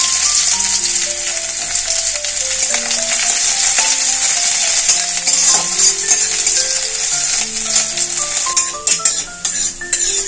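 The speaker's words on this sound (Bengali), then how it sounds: "পেঁয়াজ গোটা জিরে ভাজা হয়ে গেছে" Raw onion and whole cumin fry in mustard oil, giving a steady, fairly loud hiss and sizzle that runs unbroken for the whole stretch, with a faint tonal melody underneath.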